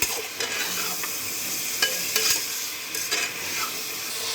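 Ginger-garlic paste sizzling and frying in a pan, with scattered stirring scrapes and clinks over a steady crackling hiss.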